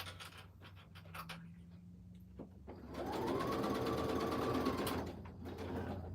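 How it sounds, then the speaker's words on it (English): A sewing machine stitches through the fabric tape of a zipper on a scrappy pouch, a steady close mechanical whir running for a couple of seconds after some quiet handling noises. "just sewing through the tape of the zipper is no big deal"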